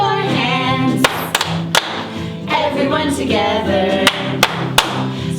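Children clap their hands during a church playtime song about Daniel and the lion's den, several sharp claps scattered over a sung melody with an adult voice leading.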